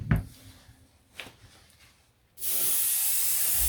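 An airbrush spray gun at about 20 psi coats a model Blackburn Monoplane airframe with paint, a steady close hiss starting abruptly after a few soft handling knocks and continuing without a break.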